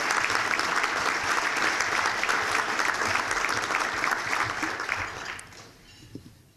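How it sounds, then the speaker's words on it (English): At a chamber of commerce breakfast, a room of attendees gives the staff a loud, sustained round of applause that fills about five seconds, then thins out and fades to scattered claps. "So let's have a round of applause for my staff over there."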